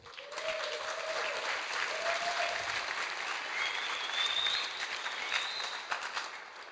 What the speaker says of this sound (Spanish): un gran aplauso a la gente de StarsConf